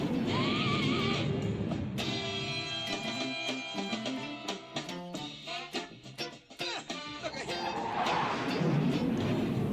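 Electric guitar plays a funk break, with choppy, syncopated funk stabs and sustained chord hits in a rhythmic burst, close and fairly loud, with no talking over it.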